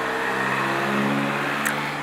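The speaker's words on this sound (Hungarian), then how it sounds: "Járnak az autók." Cars driving along a street below a home terrace, a steady near engine hum with a smooth droning tone, continuous and fairly loud with no talking.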